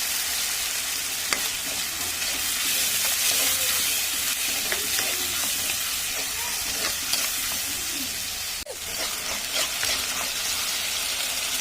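A paste of ginger, garlic, cumin and dried and green chillies sizzles and spits steadily in hot oil, loud and close, with occasional stirring scrapes and a sharp clack near the end.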